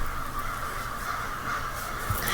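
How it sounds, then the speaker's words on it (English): Crows cawing outside a window, a steady chorus of harsh calls that stays loud and continuous throughout with no talking. "Do you see them by my window?"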